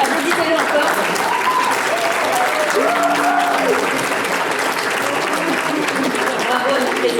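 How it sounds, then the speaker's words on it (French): Audience at a French stage event applauds again after a speech, a loud, steady round of clapping that fills the whole stretch, with cheers and voices rising through it. "Applaudissez-le encore."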